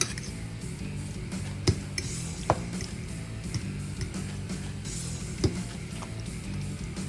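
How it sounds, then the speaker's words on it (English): A spoon stirs smoked brisket chili in a bowl, soft low scraping in a steady rhythm with a few sharper clinks against the bowl, close and quiet. "Give it a bit of a stir."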